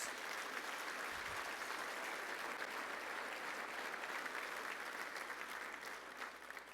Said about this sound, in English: let's give everybody and all the finalists today and all before this a big round of applause